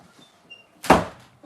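A door is closed during a crochet session making a granny-square satchel purse: one sharp thud with a brief rattle, near and loud after a near-silent lead-in.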